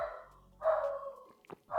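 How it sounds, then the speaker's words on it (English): A dog named Molly barks in the background, two or three distinct, fairly loud barks separated by brief pauses, with no talking over them. "Apologies for the dog barking in the background."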